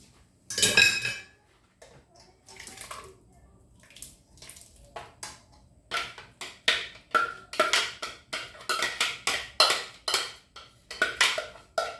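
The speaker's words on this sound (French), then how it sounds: "le moment je vais passer ma tomate dans le passoire." Tomatoes pressed through a colander for a coulis, with repeated scraping, clinking and tapping of a utensil against metal in irregular bursts, close and fairly loud.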